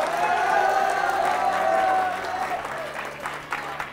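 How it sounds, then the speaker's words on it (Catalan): A crowd applauds the finalists at a school quiz contest, a thick, sustained wash of clapping that fades slightly toward the end, with a voice speaking over the first half. "Un aplaudiment per ells."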